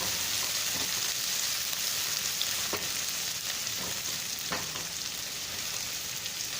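Chopped onions frying in a pan over raised gas heat, a dense continuous sizzle close by, with a few scraping stirs of a utensil against the pan.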